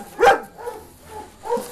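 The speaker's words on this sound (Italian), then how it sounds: "una cagnolina meravigliosa come te" A shepherd puppy gives a sharp yip, then several softer whimpering barks spaced through the moment, close by and alone without talk.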